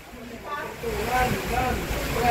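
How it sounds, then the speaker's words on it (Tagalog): Steady wind roaring and gusting, with wind buffeting the microphone and faint talk partly buried underneath. "Grabe, ang lakas ng hangin."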